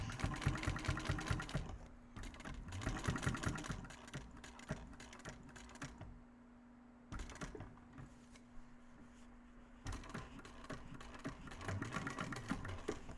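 Bursts of rapid mechanical stitching from an industrial sewing machine sewing fabric without interfacing, starting and stopping several times with a steady motor hum and pauses between runs.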